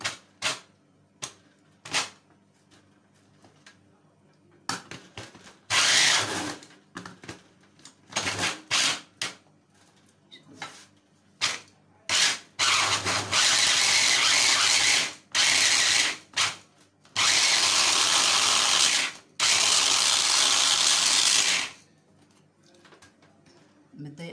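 An electric grinder whirs in short loud bursts and longer runs as it chops onion peels for onion powder, with quiet gaps and clicks between pulses.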